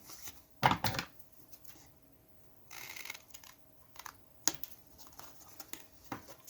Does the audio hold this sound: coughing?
no